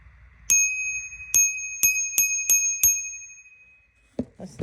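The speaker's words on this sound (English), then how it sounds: "A bicycle bell" Bicycle bell rung six times in quick succession, each bright ding ringing out clearly and close, followed by brief handling rustle at the end.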